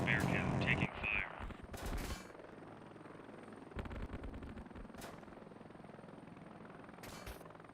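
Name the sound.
helicopter taking gunfire in video game Heliborne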